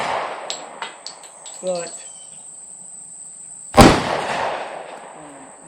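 Two sharp gunshots from a Llama 1911 clone pistol, the first faint around the one-second mark and a loud close crack near four seconds, with brief talk in between.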